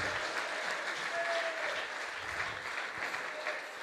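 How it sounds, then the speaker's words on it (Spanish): A church congregation claps in praise, a continuous wash of many hands clapping together at moderate distance, steady throughout without a pause. "vamos a darle palmas a Cristo."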